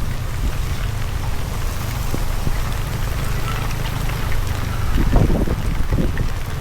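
Heavy typhoon rain pouring down in a steady, dense hiss with wind noise, close and constant, with a few louder splattering bursts near the end.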